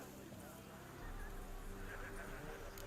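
A horse in The Witcher 3 gives a whinnying neigh over clip-clopping hooves, faint and low in level, with a voice speaking alongside.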